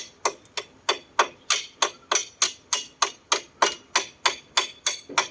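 A hammer strikes repeatedly in a steady, even rhythm, about three blows per second, loud and close with no talking.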